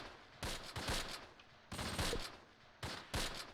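Gunfire in the Close Combat Last Stand Arnhem war game: three sharp bursts of rapid shots in quick clusters, separated by short pauses, fairly close and with no talking.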